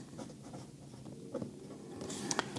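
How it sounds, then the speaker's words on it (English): Pen or pencil scratching across paper while a statistics conclusion is written out by hand, a faint, continuous scribbling with small taps and strokes, close and quiet with no talking. "Step number 7, I'm going to write it out."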